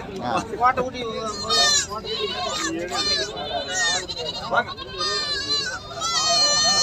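Young goat kids bleat at a crowded livestock market, loud wavering cries repeating close by over a busy hum of voices and people talking.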